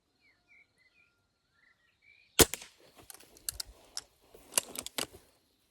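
A crisp shot from an IZh Baikal air pistol cracks out of near silence, followed by a run of small clicks and mechanical clatter as the gun is handled.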